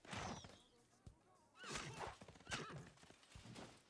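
Horse units charge and clash against legions in Civilization VI, with repeated neighs, clip-clopping hooves and crashing battle impacts in bursts, alongside faint talk.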